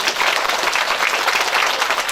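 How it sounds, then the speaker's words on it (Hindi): A large audience claps loudly and steadily at a Bhagavat Katha religious gathering, a dense, sustained wash of applause with no voice over it. "आप सब लोगों के लिए एक बार जोरदार तालियां"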